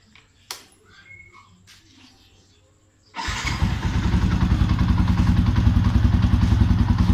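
A motorcycle fitted with a repainted exhaust canister sits quiet with a few small clicks, then its engine starts with a sudden burst and settles into a loud, steady idle nearby.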